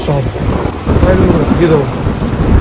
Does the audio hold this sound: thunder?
yes